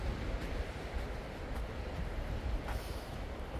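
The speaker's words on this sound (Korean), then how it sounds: "와, 바람 세다" Strong wind sweeps across a mountainside during a night hike, a steady, rough rushing noise with faint gusty swells and no other sounds.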